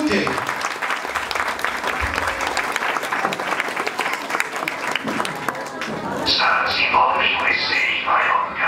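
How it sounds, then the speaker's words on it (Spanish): An audience at a Bolivian Caporal dance performance by children of San Simón USA Mallorca breaks into dense, continuous clapping, with voices in the crowd joining in as the applause swells near the end. "Niños, un aplauso por favor, que se escuche."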